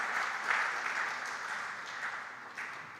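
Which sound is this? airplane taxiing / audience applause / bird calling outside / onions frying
audience applause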